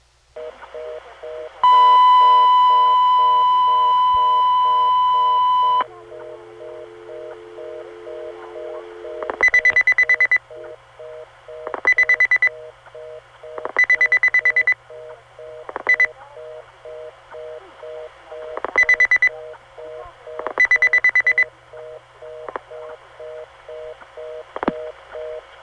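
Telephone line tones on a GTE/Leich CXP-5 exchange: a steady dual tone, then a lower tone, followed by repeated bursts of reorder-style beeping and short remote dialing beeps from a telco technician, loud and close.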